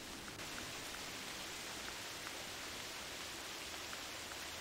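Rain falls in the hunting video game Hunter Classic, a steady dense hiss of drops with no break, moderately quiet and unchanging through the short stretch.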